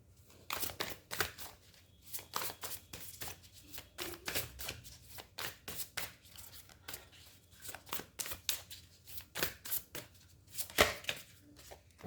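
Quick papery riffling of tarot cards being shuffled close by, coming in irregular crisp bursts with short pauses, no voice over it.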